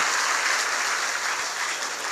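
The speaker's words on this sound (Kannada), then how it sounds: "ಜೋರಾದ ಚಪ್ಪಾಳೆಯೊಂದಿಗೆ ಗೌರವಿಸೋಣ" Sustained, dense applause from a large audience welcoming a revered swami from Afzalpur at a Kannada religious discourse, steady and loud throughout.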